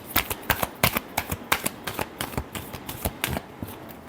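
A deck of tarot cards is shuffled by hand, giving a quick, close run of sharp riffling flicks and taps in an uneven rhythm, alone without talk.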